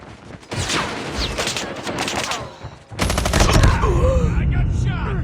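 Bursts of automatic gunfire from the mobile shooter game Call of Duty Mobile, loud rapid volleys in two clusters with a short lull between, under game voice callouts and effects.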